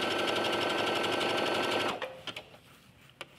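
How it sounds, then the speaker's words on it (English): A sewing machine runs a straight stitch with a steady, close, loud mechanical whir for about two seconds, then stops and leaves a few soft clicks and taps. "You just sew as if you're sewing a straight stitch."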